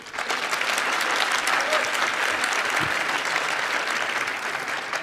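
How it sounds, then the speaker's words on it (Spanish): A large audience applauds steadily, dense clapping filling the whole stretch at a constant, loud level. "Ese aplauso no le ha gustado nada a Rajoy"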